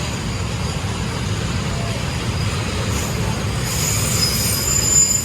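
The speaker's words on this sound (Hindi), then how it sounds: "ट्रेन आ गई, फाइनली ट्रेन आ गई।" Train pulling into a station in India, a loud broad rumble of rolling wheels with high squealing from the rails building toward the end, steady and close throughout.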